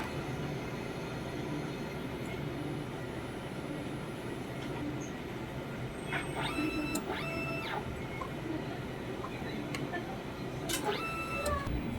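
A DTF printer runs a head cleaning cycle, giving a faint mechanical hum under scattered clicks and short whirring motor bursts near the end. It sounds quiet and close, with no talking.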